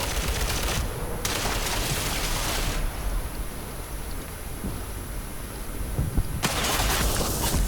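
Gunfire in the online shooter Ghost Recon Online: dense, steady bursts of shots with noisy crackling through the whole stretch and brighter clusters near the start and end, no talking.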